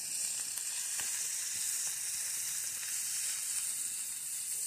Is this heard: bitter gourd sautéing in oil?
yes